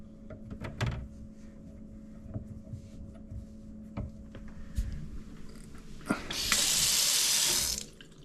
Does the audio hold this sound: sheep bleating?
no